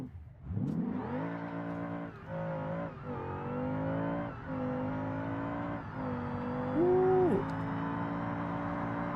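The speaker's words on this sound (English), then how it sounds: "I reckon we're gonna hit the nitrous, and I reckon we're gonna be in the 8-second range for sure" A drag car on nitrous in the BeamNG game accelerates hard, its loud engine note climbing through several gear changes with short dips between them, ending in a sharp high rev near the finish.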